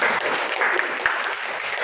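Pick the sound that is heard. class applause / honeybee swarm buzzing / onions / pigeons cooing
class applause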